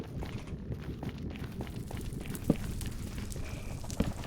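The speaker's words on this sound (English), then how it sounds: "I hear a lot of crackling" Fire crackling in the Minecraft video game, a busy low rustle of pops and crackles at moderate level, with a couple of slightly sharper snaps, no speech.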